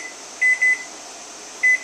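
Kitchen timer being set during a wort boil for homebrewing beer: three short, sharp electronic beeps, two in quick succession then one more after a pause, clear and close over a steady background hum.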